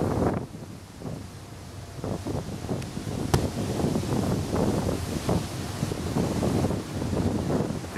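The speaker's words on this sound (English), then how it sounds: "That's just the ferry crashing through the ice." A river ferry pushes through ice on the St. Lawrence near Old Quebec City, giving a continuous loud grinding, crunching rumble with irregular scraping bursts and a sharp crack over wind noise.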